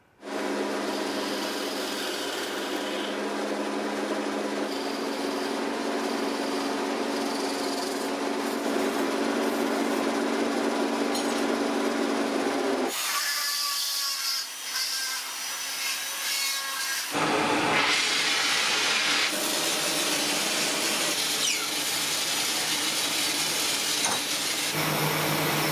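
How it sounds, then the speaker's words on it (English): Lathe turning a wooden bollock dagger handle, a continuous whirring scrape of the tool against spinning wood, changing character partway through as the cut shifts, close and steady. "let's go to the lathe and start working our way through the problem"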